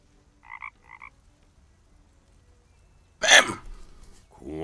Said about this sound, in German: Die Kröte scheint nur noch zu dösen.